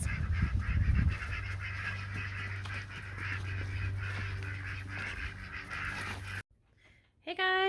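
A flock of ducks quacks and honks continuously nearby, the chatter cutting off abruptly near the end.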